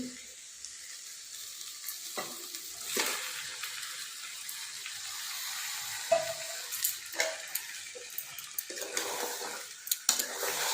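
Chicken sizzles and fries in a pan with masala, potato, salt, turmeric and oil, a steady hissing bed broken by repeated scraping stirs of a spoon against the pan, close and with no talk.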